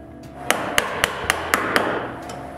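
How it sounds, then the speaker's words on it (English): A chisel is struck to widen the strike plate hole in the edge of an interior wooden door: six sharp, close, evenly spaced knocks against a faint steady background. "Next, with a chisel, I widen the hole."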